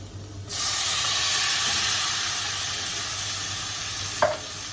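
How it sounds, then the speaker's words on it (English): Tomatoes hit a hot pan and burst into a loud, sustained sizzle that keeps frying steadily, with a brief clatter near the end. No one speaks. "Okay, and then I'm going to add my tomatoes."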